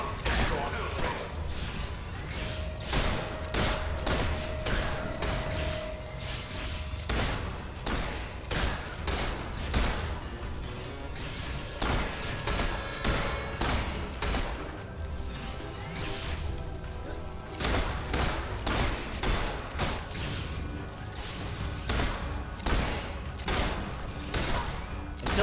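Rapid gunfire in the Fable 3 video game, dense volleys of sharp shots cracking in quick succession for the whole stretch, loud and close, mixed with whooshes and impacts.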